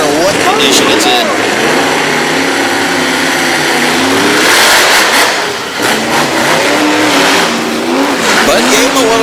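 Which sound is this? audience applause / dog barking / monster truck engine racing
monster truck engine racing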